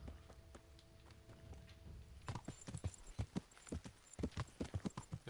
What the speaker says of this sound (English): This well-trained horse who can sprint fairly fast through all this